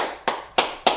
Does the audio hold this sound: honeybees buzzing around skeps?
no